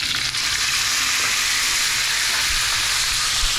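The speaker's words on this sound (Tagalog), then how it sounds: "Tapos igigisa natin yung ating carrots." Carrots sauté in hot oil in a pan for a chicken caldereta, giving a continuous close, even sizzle with faint stirring clinks and no talk.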